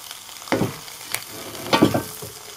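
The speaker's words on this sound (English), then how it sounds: "Let's have a look at those venison steaks while these hamburgers are cooking." Hamburgers and venison steaks fry on a wood-burning outfitter's camp stove, giving a close, steady sizzle broken by a few louder spatters and scrapes; no one speaks.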